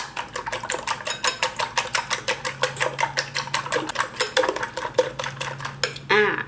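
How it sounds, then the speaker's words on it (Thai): Rapid, rhythmic clinking of a utensil whisking eggs for an omelette against a bowl, steady and close, ending with a brief different scrape. "ตีให้ไข่ แตกเลยนะคะ"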